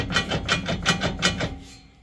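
A worn rear end on a 1989 Suburban makes a rhythmic grinding, rasping noise, with about six evenly spaced pulses over two seconds that fade toward the end. No voices are heard.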